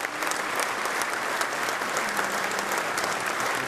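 A large crowd at an Independence Day reception in a sports and concert complex applauds steadily for soldiers killed at the Armenia-Azerbaijan border, the clapping continuous and full with no voices over it.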